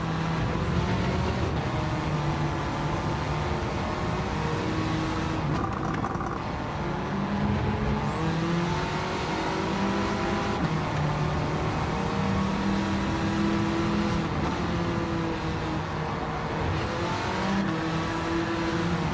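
Race cars in Gran Turismo 7 lobby racing, engines droning and shifting pitch as they climb through the gears and lift for corners, a steady loud mechanical whine lasting throughout with no voices.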